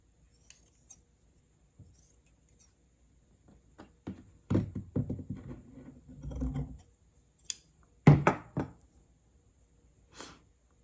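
Close, quiet snips and rustles of scissors, a few sharp clicks and a burst of crisp cutting, with scattered pauses between.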